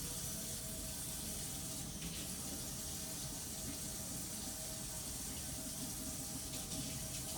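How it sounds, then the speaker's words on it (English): Running tap water pours steadily as hands are washed over a bowl, a continuous soft hiss and splash, faint and unbroken with no voices. "let me get my bowl here and wash my hands real quick"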